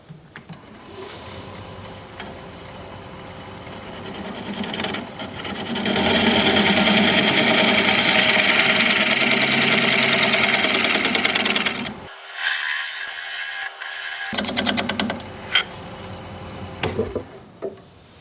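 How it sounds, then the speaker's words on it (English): A negative rake scraper rasps against spinning wood on a lathe, a steady scraping that builds louder midway, breaks off briefly, then returns in shorter bursts. "I'll get my negative rake scraper sharpened up and we'll scrape a little"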